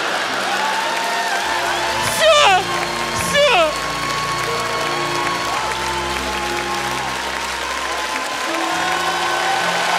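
Steady applause from the audience at a Liga Smekha improv comedy show in 2021, with two short whooping cheers rising above the clapping and some talk mixed into the crowd noise.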